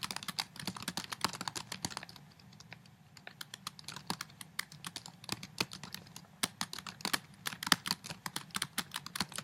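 Fingers type steadily on a computer keyboard nearby, a brisk run of clicking keystrokes with a brief lull partway through before the tapping resumes, no one speaking.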